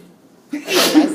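A single sneeze during a math class, a short sharp burst of breath with a brief voiced edge, loud and close after a moment of quiet.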